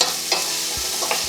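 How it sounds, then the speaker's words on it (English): Onions, garlic and carrots sauté in a pan for a vegan cottage pie, giving a steady close sizzle broken by a few soft stirring scrapes. "for the remainder of 5 minutes of sauteing, we've got the onions, garlic and carrots in there"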